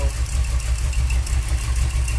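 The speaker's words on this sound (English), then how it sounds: "So what I'm doing is I'm idling it down" A car engine with a Holley 4150 carburetor idles low and steady, a deep rumbling throb with a faint uneven pulse, close by and without voices.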